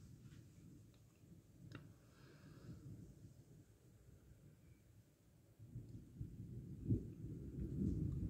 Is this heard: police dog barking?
no